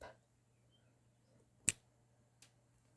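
A single finger snap in a quiet room on a Missouri farm, sharp and close, with a fainter second snap a moment later.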